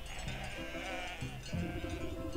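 A startled sheep in the video game Wytchwood bleats repeatedly, wavering and nasal, over a steady bed of game music and ambience.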